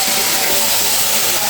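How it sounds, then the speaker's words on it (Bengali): Hot water poured into a pan of frying chital fish and potato curry gives a loud, steady broadband hiss and sizzle that holds without break, with no one talking. "কষানো হয়ে গেছে, এই অবস্থায় আমি গরম জল দিয়ে দেবো"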